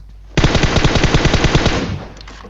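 Sustained burst of automatic gunfire from a firefight in the PUBG Mobile battle royale game, a loud rapid rattle starting abruptly and running for about two seconds before tapering off.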